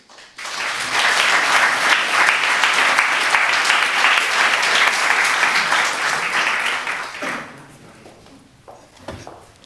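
Lecture audience applauds to welcome artist Trevor Paglen at DIA, a dense, loud burst of clapping lasting about seven seconds before it tapers off into a few scattered claps and room noise.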